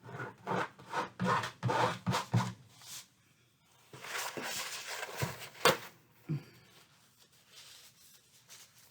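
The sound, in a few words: scraping Shiva Paint Stik paint off a surface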